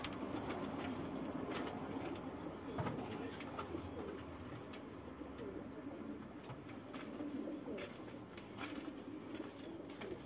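Pigeons sick with pox coo softly and steadily at close range in an enclosure of pigeons and canaries, with faint rustling throughout.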